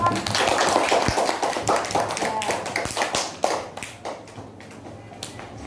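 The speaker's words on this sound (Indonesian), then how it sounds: "Tepuk tangan dulu" A primary school class claps for a classmate, a burst of brisk clapping that thins into scattered taps and fades out, with children's voices mixed in.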